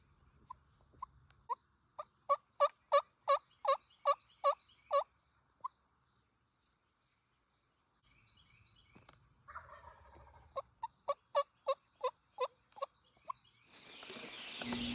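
A wild turkey gobbles close by during a hunt, two rapid bursts of loud, rattling calls separated by a quiet pause, with rustling at the end.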